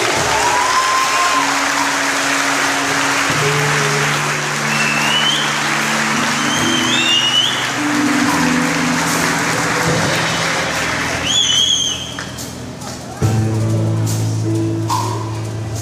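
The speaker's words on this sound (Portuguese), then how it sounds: "Pode aplaudir!" Sustained applause from a church congregation during an engagement celebration, a dense steady clapping wash filling the room with occasional voices and faint tones above it, briefly dipping before resuming.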